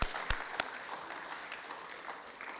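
An audience in an auditorium at an association's annual general meeting claps, opening with a few sharp loud claps and continuing as a softer, thinning patter of hands.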